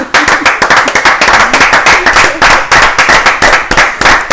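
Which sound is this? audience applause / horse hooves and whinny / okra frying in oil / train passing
audience applause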